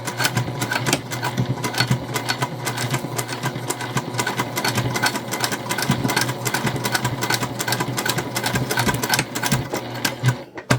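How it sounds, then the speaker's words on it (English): A sewing machine stitches double-fold binding about an eighth of an inch from the inside edge, running in a loud, fast continuous mechanical rattle that pauses briefly near the end, with no talking. "we're gonna sew basically 1/8 inch from this inside edge here that's facing the bulk of our material."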